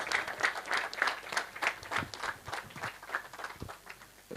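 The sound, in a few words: audience applause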